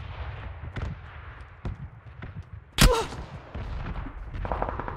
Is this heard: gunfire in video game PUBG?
yes